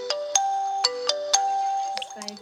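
Ringtone from a Telstra Essential Smart 2.1 (ZTE Blade A30) phone, a short melodic run of bright chiming notes in an even rhythm, clear and close, ending on a few quicker higher notes.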